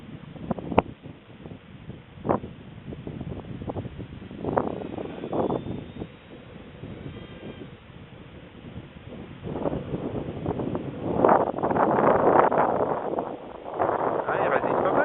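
Strong gusts of about 20 km/h buffet a small toy aircraft flying outdoors, rumbling and rising in waves that swell louder toward the end, with someone talking over the wind.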